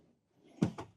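Drawer in a 2026 Newmar Freedom Aire 2515 Class C motorhome sliding shut, heard as two quick close knocks after a soft rustle, the first louder than the second.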